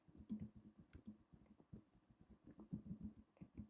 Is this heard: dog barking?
no